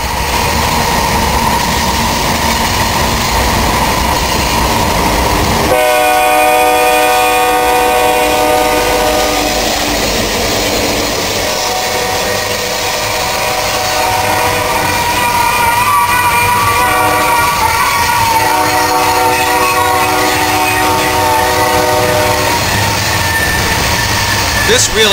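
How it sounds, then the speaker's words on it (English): A westbound BNSF grain train with many locomotives rumbles close by leaving Tunnel 10 on the Tehachapi Loop, its horn sounding in long, layered blasts over the steady roar of engines and rolling cars. "a westbound BNSF grain train coming out of Tunnel 10"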